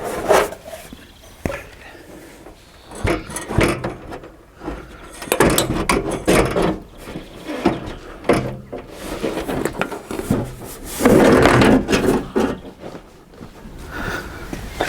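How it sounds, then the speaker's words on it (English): Bolts being undone and the hood lifted off a 1952 Massey Ferguson MF 35 tractor, giving irregular metallic clanks, scrapes and rattles of tools and sheet metal at close range. "we're going to take the hood off and it's just held in place by 2 bolts"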